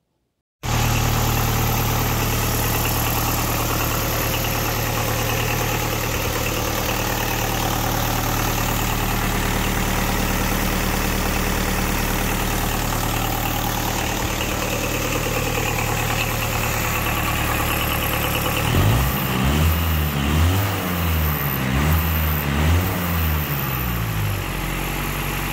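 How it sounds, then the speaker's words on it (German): A Mercedes OM 636 diesel engine in a Unimog runs steadily for the whole stretch, a loud, close, rough low drone from the motor. Near the end the pitch swings up and down in rhythmic revving pulses. "Ein Video von dem Motorlauf, wo ich ihn gefahren bin."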